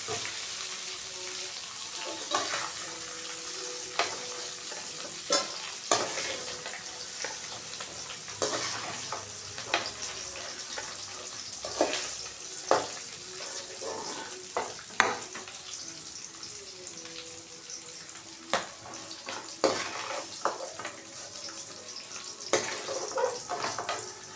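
Food sizzling in a pan as it is fried, with repeated sharp scrapes and clinks of a spoon stirring at irregular intervals, close and fairly loud with no talking.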